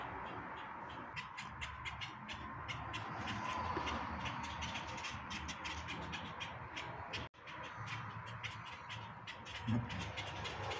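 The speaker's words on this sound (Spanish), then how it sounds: "Ahí vemos cómo Kira está más interesada en el sonido de los pájaros." Crows caw repeatedly in a faint, distant outdoor setting, over a soft steady background hiss, with no one speaking.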